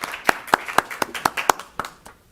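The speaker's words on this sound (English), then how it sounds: "please, round of applause" Applause for Claudia Derillo at a district board meeting comes as a short run of about nine distinct, evenly spaced hand claps from just one or a few people, close and fairly quiet, fading out.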